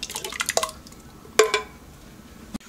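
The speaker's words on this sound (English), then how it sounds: "Now we're adding 2 28-ounce cans of crushed tomatoes, with basil." Two 28-ounce cans of crushed tomatoes with basil pour into an Instant Pot, giving a few wet splats and plops at moderate loudness, with a sharper thick splash midway and a short knock near the end. No one speaks.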